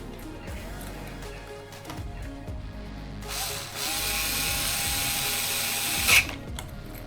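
A power driver tightening screws during a Tekno MT410 2.0 RC monster truck build: faint clicks and handling noises first, then a loud sustained whirring burst with a sharp click near the end.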